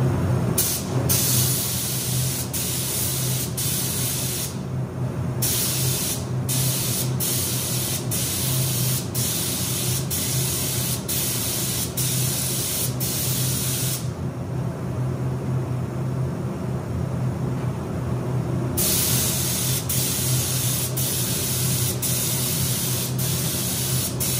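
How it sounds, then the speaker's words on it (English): Spray gun applying water-based coating in a steady, loud continuous hiss for over twenty seconds, with brief dropouts and trigger breaks, near and unbroken by talk. "you can spray this backside of it"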